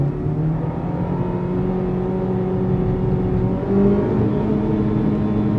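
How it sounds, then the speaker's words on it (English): Maruti Suzuki Baleno engine with an AGS AMT gearbox held in manual mode, heard from inside the car as a steady drone whose pitch shifts briefly as it downshifts. "Now I'm going to take manual control over this AGS AMT gearbox. So downshifting."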